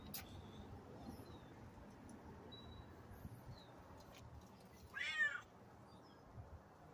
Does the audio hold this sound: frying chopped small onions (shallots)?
no